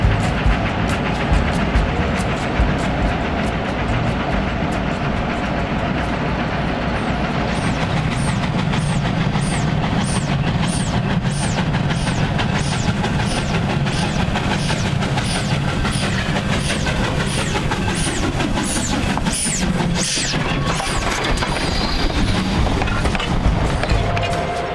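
K-36 steam locomotive number 480 slowing along the Animas River, a continuous loud rumble of wheels and running gear with a rapid series of bright rhythmic clicks or chuffs building through the middle and fading near the end.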